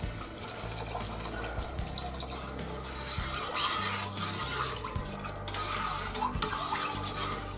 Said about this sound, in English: We're going to add about 1 liter of water.